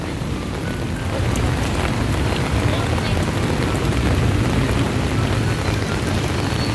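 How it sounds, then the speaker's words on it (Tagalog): Rain pours down on an outdoor market in Taytay, a loud, continuous hiss of drops on roofs and surfaces that swells slightly after the first second and holds steady. "it's raining in Taytay guys"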